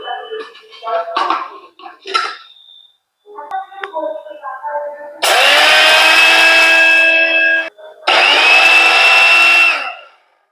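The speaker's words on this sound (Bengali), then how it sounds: "এটা ঠান্ডা হলে মিক্সিতে এটা গুঁড়ো করে নেব আমি।" An electric mixer grinder jar grinds cooled tomato pickle spices to powder, two loud steady whirring bursts with a short pause between, after some clattering as the jar is set up.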